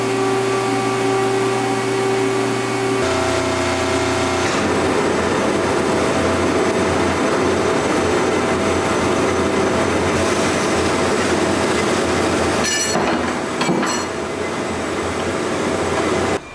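A saw in a machine shop cuts titanium raw material, making a steady, loud mechanical drone with a tonal whine that shifts partway through, plus brief metallic bursts near the end.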